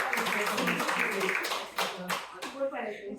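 Clapping from a group gathered at an evaluation and follow-up session, a dense patter of hands that thins over about two seconds while voices talk over and after it.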